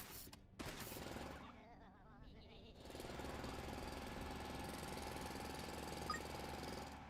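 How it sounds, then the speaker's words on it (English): Ore drilling in the space automation game Foundry: a dense, steady mechanical rattling drone that starts after a brief burst and gap, then grinds on continuously and loudly for several seconds. "Well, let me drill in."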